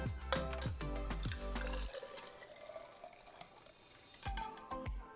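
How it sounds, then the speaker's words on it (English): Orange juice mimosa cocktail poured from a shaker into a very large glass, a close liquid splash and trickle running for a couple of seconds between clinks and handling knocks. "And pour it into my glass."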